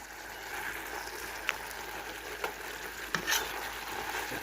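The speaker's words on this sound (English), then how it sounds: "Give this a stir." Yams cooking with vanilla in a pot get stirred, a soft bubbling simmer with a few distinct scraping clinks of the spoon against the pot.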